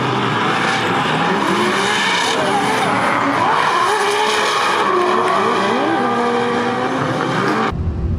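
A drift car at Hyperfest 2024 chases another car around a lap, its tires squealing loudly and continuously over a hard-revving engine for the whole stretch, with no pauses.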